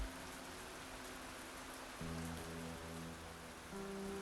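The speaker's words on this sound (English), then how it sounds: "The rain does not stop." Steady, dense rain in a story scene of the video game Arknights, a continuous hiss throughout with soft musical tones entering and shifting beneath it.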